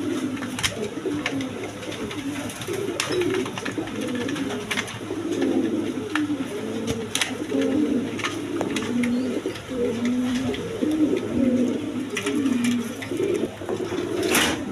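A female Rasgolla pigeon coos over and over in low, rolling phrases, close by, with faint clicks and mechanical rattles in the background and no talking.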